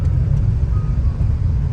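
A car engine drones low and steady while overtaking on a road, a close rumbling cabin hum with road noise and no talking.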